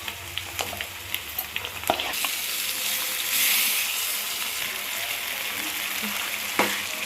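Onion frying in a tempering for grated raw mango pickle sizzles loudly and steadily in the pan, with a few spoon clinks early on and a burst of hissing as it gets going.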